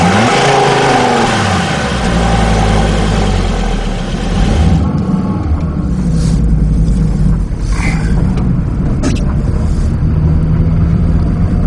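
A gasoline car engine runs loud and close while driving, with a rising rev early on, then a steady droning hum and rumbling road noise.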